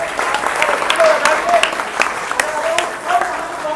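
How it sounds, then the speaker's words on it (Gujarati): A crowd applauds at the inauguration of a new GSRTC bus, with steady, close clapping running throughout, sharp individual claps standing out and voices audible alongside. "એ બાબતે આપણે સૌ તાળીઓના ગડગડાટથી અમને વધાવીએ."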